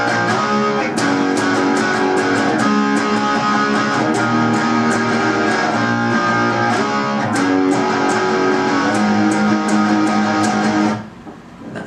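A guitar plays the full riff with all parts combined: a steady, dense rhythmic pattern of picked notes and slides, loud and close, stopping abruptly near the end.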